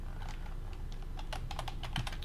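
Typing on a computer keyboard while writing in a basic notepad program, a steady run of close, quick key clicks with no talking.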